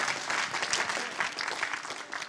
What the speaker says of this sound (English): Would y'all give Clayton a hand clap?